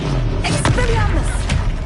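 A spell is cast in the Hogwarts Legacy video game: two dull, booming magical bursts over a steady bed of game sound, with a thud near the end.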